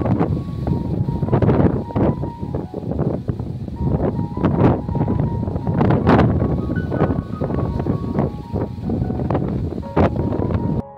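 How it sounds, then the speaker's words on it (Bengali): Gusty, stormy wind ahead of Cyclone Dana in Kolkata buffets the microphone loudly and continuously, with repeated stronger gusts surging throughout. "নতুন করে আবার মেঘের ঘন ঘটা ঝুড়ো হাওয়া"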